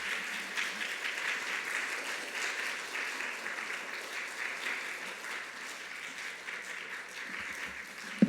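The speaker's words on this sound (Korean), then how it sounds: "이 시간 목사님 나오실 때에 박수로서 환영을 하도록 하겠습니다." Steady applause from a church congregation welcoming a pastor to the pulpit, a dense even wash of clapping that holds for the whole stretch before ending with a sharp final clap.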